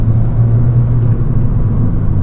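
Steady low engine drone and road rumble from inside a 2013 Mini Cooper S Coupe, its turbocharged engine holding a loud even hum without clear revving.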